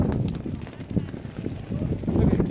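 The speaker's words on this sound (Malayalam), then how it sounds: "ഈ ഫ്ലാഗിൻ്റെ സൗണ്ടാണ് ടക്ക് അടിക്കുന്നത്" A flag snaps and flaps in a fierce, cold mountain wind in a high Himalayan village of Lahaul and Spiti, giving uneven rhythmic flutters over a low windy rumble, with a voice speaking faintly at times.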